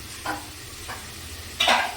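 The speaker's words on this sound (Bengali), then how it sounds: "এবার মাছগুলোকে ভেজে নিচ্ছি" Snakehead fish fry in hot oil in a wok, three short bursts of sizzle and spatter, the last the loudest, over a steady low background hiss.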